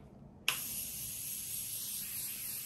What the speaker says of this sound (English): I'm using the Morphe Continuous Setting Spray.